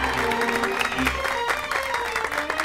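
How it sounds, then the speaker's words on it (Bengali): A room full of people applauds at a jewellery brand contest event, dense steady clapping with music playing underneath. "জোরে একটা হাততালি হয়ে যাক"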